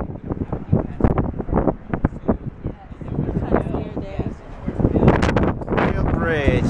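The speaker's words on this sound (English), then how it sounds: "It is super windy." Strong gusts of wind on a high bridge by a dam batter the microphone with loud, uneven roaring bursts, while people talk throughout.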